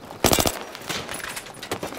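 Gunfire in the video game Battlefield 3 multiplayer, a fast automatic burst up close and then a few scattered shots, with no talking over it.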